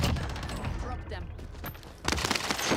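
Rapid bursts of gunfire from a first-person shooter video game crackle loudly and almost continuously, with a sharper, denser volley erupting near the end.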